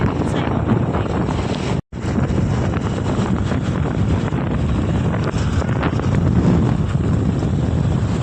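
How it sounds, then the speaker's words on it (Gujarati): Strong wind blowing hard against the microphone outdoors, a loud, continuous roaring buffet that barely drops for a moment near two seconds before surging on. "પવનની ઝાપણ છે, પવન બહુ જ છે અત્યારે"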